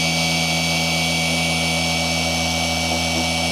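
Machine polisher pad running on Porsche 718 GT4 paint during compounding, a loud steady motor whine and buzz with strong tonal hum, constant and close throughout, no talking.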